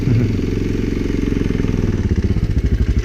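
A 2014 Ducati Hypermotard engine runs loud and close, a steady throaty idle that turns into a pulsing, lumpy throb near the end, with no voices.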